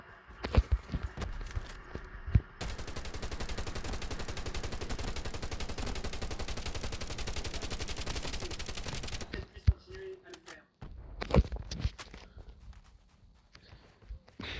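Long, dense burst of sustained automatic gunfire from an online shooter game against bots, loud and unbroken for several seconds, framed by scattered single shots and thuds before and after.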